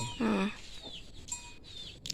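Chickens on a poor rural homestead in Thailand, a few soft, short clucks and calls, fairly quiet, with faint background sounds between them.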